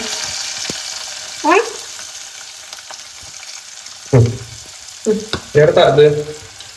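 Fenugreek seeds and onion frying in hot oil for a Kerala-style curry, a steady soft sizzle running throughout with a few louder bursts of crackling and stirring near the end.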